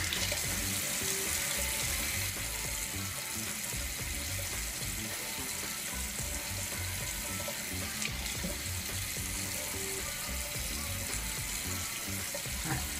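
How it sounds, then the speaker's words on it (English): Water running steadily from a tap while it is worked into hair being prepared for a braid out, a constant close splashing hiss with no talk. "Right now I'm just adding some water."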